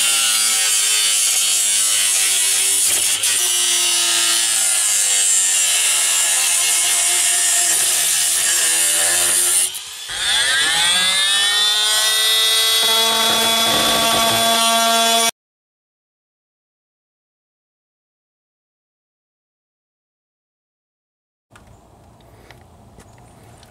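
An oscillating multi-tool cuts a plastic piece out of the dashboard of a 2002 Chevy Silverado during an evaporator repair, a loud sustained buzzing whine that pauses briefly, resumes in a higher tone, then stops before faint handling noise.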